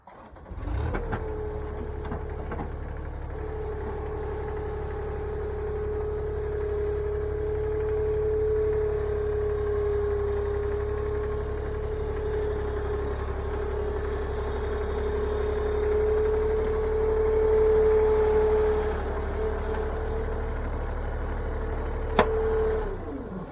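A skid steer's engine running steadily at a pole barn build site, a constant low mechanical drone with a faint whine, rising slightly midway, and a sharp click near the end, no talking.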